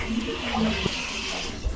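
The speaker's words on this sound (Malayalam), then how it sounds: "നമ്മൾ വെള്ളം ചേർത്ത് കൊടുത്തിട്ടുണ്ട് കേട്ടോ" Water pours into a pot of spicy masala for Palakkad Rowther-style chicken biryani, a short close splashing rush lasting under two seconds with no voices.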